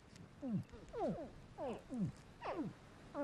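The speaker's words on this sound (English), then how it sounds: "This is the call of baby crocodiles, ready to hatch from their shells." Baby crocodiles call from inside their shells just before hatching, giving a series of about six short, rising-and-falling chirping yelps at a steady rhythm, fairly close and clear over a quiet background.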